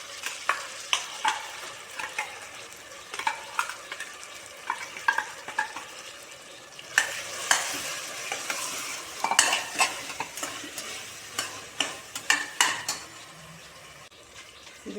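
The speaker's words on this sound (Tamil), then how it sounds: "அந்த பேஸ்ட்டை கலந்துக்கலாங்க, போட்டுக்கலாம்" A utensil scrapes and stirs ground paste into cooking rice and lentils in a pan, with irregular clinks and a soft sizzle underneath, close up and without speech.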